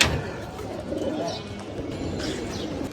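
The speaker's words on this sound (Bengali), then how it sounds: "কবুতরগুলো মাত্র ঢুকছে।" Pigeons on a rooftop loft coo softly at close range while settling in, with faint flutters and background hubbub around the low, murmuring calls.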